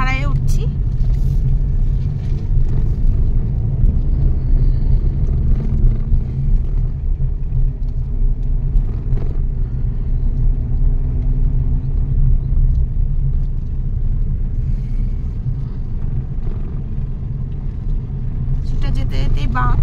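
Car climbing a steep, winding mountain road from Siliguri toward Kurseong and Darjeeling, a loud, steady low engine rumble heard from inside the car, with people talking over it.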